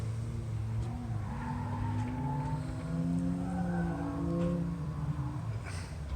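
Race cars lapping at a Mr. Gasket King of the Heap event, with engines droning and shifting pitch at a moderate distance, steady and continuous under faint background noise.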